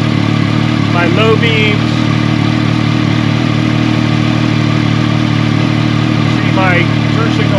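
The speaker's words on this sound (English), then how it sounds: "I'm going to start the bike up" A Yamaha FJ-09 motorcycle engine idles with a steady, even rumble from start to finish, running close by beneath a voice as he talks.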